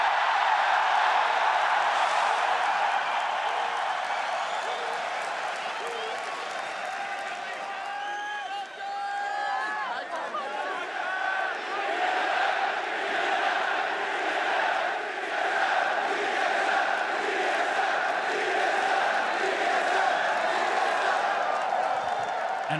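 Esports arena crowd at the NA LCS Summer 2016 grand final, TSM vs C9, roaring, cheering and applauding continuously and loudly throughout, with a brief dip before the noise swells again.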